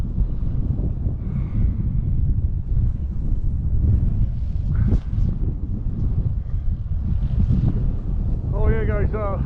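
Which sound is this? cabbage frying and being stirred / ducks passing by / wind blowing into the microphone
wind blowing into the microphone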